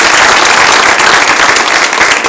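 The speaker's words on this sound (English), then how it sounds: "Can we get a round of applause for our panelists?" An audience applauds panelists at the close of a Future Ready Iowa panel discussion, with steady, dense clapping that stays loud and unbroken throughout.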